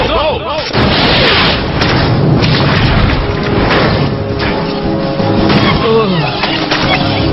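A rocket launches and explodes in a video game battle, heard as continuous loud booming blasts and heavy artillery-like crashes with rumbling debris throughout, dense and close, with battle noise layered over it.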